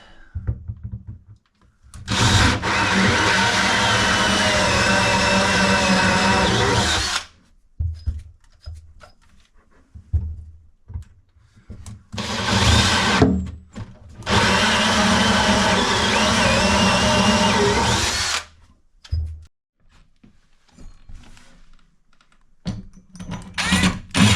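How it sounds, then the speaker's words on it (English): A power drill whirs through wood in long bursts of several seconds each, drilling cabinet toe kick parts from both sides, separated by quieter pauses with small clatters and handling noises. "I'm going to drill these from both sides."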